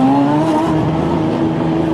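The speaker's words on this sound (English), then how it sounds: "the engine has to fire up from the pit apron" A GT race car's engine drones steadily as it pulls away from the pit apron at the 2011 Spa 24 Hours, a loud sustained tonal roar with a slowly shifting pitch.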